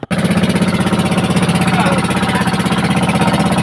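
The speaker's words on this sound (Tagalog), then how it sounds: "Kinakailangang tuloy-tuloy na umaandar ang makina para huwag paubusan ng hangin yung ating compressor" A boat engine drives a diving air compressor, chugging in a steady rapid pulse, loud and close, running continuously without pause and with no voices.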